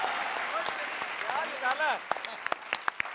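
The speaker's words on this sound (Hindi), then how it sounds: "जोरदार स्वागत करो तालियां बजा के।" An audience on a Hindi comedy show claps to welcome the judges. Moderate applause runs under voices and tonal sounds, then thins into a few sharp, scattered claps.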